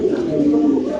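A pigeon gives a short, close, low cooing call lasting about a second, clear and unaccompanied.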